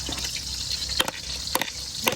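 Fish fries in hot oil that crackles and hisses softly in a pan, with a few sharp pops and spatters breaking through the steady frying.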